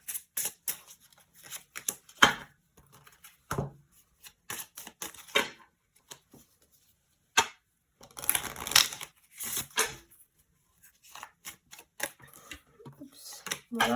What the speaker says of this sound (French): Je vais juste tirer encore des cartes des oracles